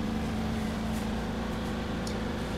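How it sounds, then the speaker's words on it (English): A washing machine hums steadily in the background of a room, a constant low drone with no breaks, faint and unchanging throughout with occasional small clicks. "That's my washing machine."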